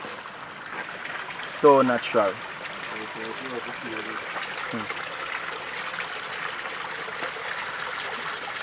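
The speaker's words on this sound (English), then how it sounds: "A real Jamaican spring water coming from underneath the rocks." Jamaican spring water flows out from beneath rocks in a steady, close trickling wash, while a voice speaks briefly over it near the start.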